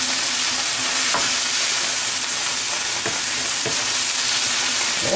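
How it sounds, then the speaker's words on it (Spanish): Grated onion sizzling in a pan of mushroom fideuá as it is stirred in, a loud, steady frying hiss with a few spatula scrapes, heard close and without speech. "entonces tenéis que añadir la cebolla que está ralladita. Mezcláis otra vez todo."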